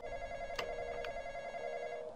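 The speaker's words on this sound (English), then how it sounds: "That phone's gonna go off right away." A telephone rings in the Roblox game The Intruder, a steady electronic ringing tone that carries on without a break, fairly quiet and alone.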